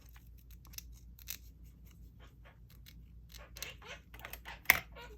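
Paper being snipped with scissors, scattered short crisp cuts and rustles close by, building toward a sharp snap near the end, with no talking.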